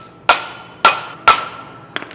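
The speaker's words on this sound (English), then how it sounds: "then basically just hammering into the palm of my hand" Three sharp hammer blows strike a part held against the palm of a hand while fitting a pinion gear during a Toyota Tacoma differential regear to 5.29 ratio gears, each ringing briefly and evenly spaced, followed by faint small clinks.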